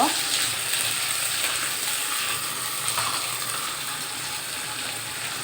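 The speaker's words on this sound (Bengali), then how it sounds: "এক চা চামচ আদা রসুনের পেস্ট দিয়ে দিচ্ছি পেস্ট দিয়ে একটু নেড়ে চেড়ে নিব" Ginger-garlic paste is stirred into fried onions in a hot pan, a loud, steady sizzle and hiss that runs throughout, close up, with no distinct spoon strokes standing out.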